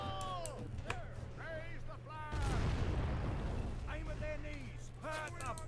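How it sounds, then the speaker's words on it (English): Sipahi cavalry units fire in a Born in the Fire mod battle of the 1880 Anglo-Afghan War, a loud rolling volley crashing in mid-clip with scattered shots trailing off while someone talks before and after. "We also got our Sipahis up here firing."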